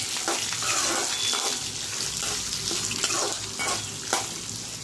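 Shallots being sautéed with curry leaves in a pan for a curry leaf thuvaiyal, a steady close sizzle with occasional stirring scrapes and small crackles, no voices.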